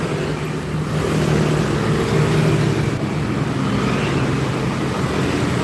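Heavy trucks rush by on a busy road, a continuous loud rumble of engines and tire roar with no break, near and steady throughout.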